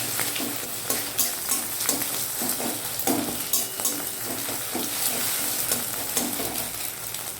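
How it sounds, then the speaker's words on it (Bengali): An egg fries in well-heated white oil in a pan, a close sizzle broken by regular clicking stirs and scrapes of a spatula, with no one speaking. "তেলটাকে বেশ ভালো করে গরম করে এবার আমি ডিমটাকে ভেজে নিচ্ছি।"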